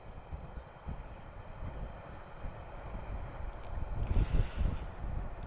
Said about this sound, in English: Strong gust.